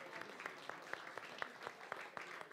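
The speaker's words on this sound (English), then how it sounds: "Give him a round of applause." Steady audience applause at a live magic show, a dense wash of many hands clapping with sharper individual claps standing out in a fairly regular rhythm.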